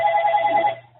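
A phone rings with a steady electronic trill during an online seminar, loud and close, cutting off abruptly after about a second.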